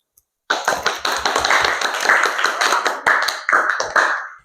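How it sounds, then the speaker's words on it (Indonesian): A class of students applauds a presenting group, a dense burst of many hands clapping close by that starts abruptly and continues irregularly for about four seconds, with no voices over it. "kita beri aplaus untuk kelompok 1"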